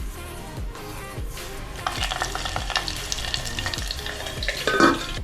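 Green chillies and garam masala fry in a curry pot of chicken curry, sizzling steadily while a spoon stirs and scrapes in regular strokes, close and fairly loud.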